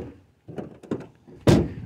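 The rear doors of a Ford Transit Connect micro camper are swung and latched shut, with a few soft knocks and rattles before one loud, solid slam near the end.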